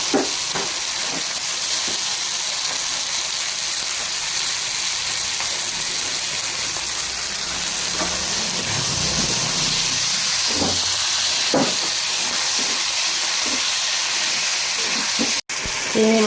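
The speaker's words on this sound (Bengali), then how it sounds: "কষানো শেষে এখন আমি চিংড়ি মাছগুলো দিয়ে দিব।" Shrimp dropped into a pan of turmeric masala, frying with a steady, dense sizzle and hiss that runs loud and unbroken, with faint stirring clinks and scrapes showing through now and then.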